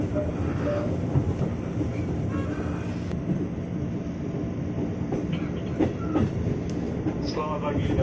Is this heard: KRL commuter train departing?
yes